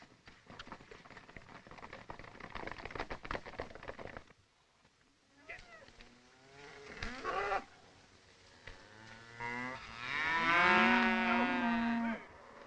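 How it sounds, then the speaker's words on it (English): A herd of cattle on an open range lowing in long drawn-out moos near the end, preceded by a rumble of hooves and scattered calls, in an old 1936 western. "Put the cattle on the bedding ground."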